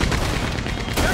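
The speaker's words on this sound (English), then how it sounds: "Gatling gun!" Gatling gun fire in the video game Red Dead Redemption 2, a loud, dense, continuous burst of rapid shots with no pause.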